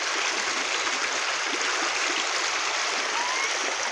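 A stream swollen by heavy rains rushes continuously, a loud, steady broadband roar of flowing water close by, with no breaks or talk.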